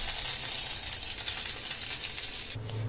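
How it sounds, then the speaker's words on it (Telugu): Hot tempering poured onto masala dal sizzles with a bright, steady crackling hiss, close and continuous, cutting off near the end as the spattering settles. "ఇప్పుడు బౌల్లోకి తీసుకున్న తర్వాత మనం వేసిన తాలింపు వేసుకుందాము."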